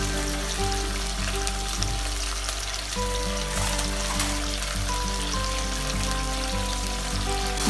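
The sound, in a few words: tempering garlic and tomato in hot oil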